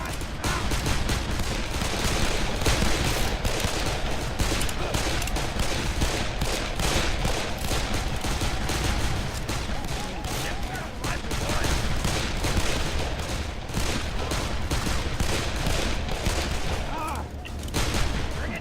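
Dense, nonstop gunfire in the first-person shooter Darkest of Days, a loud, rapid barrage of overlapping shots and automatic bursts that runs throughout without a break.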